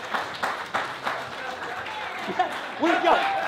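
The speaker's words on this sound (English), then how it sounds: "Give him a round of applause." A studio audience at a late-night comedy show breaks into applause, broadband clapping bursts that rise and swell toward the end, mixed with a host's voice talking over it.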